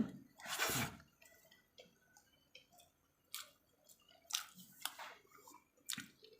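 Someone eats rice mixed with spicy mutton liver curry by hand, making soft wet squishes and chewing sounds close up in short irregular bursts.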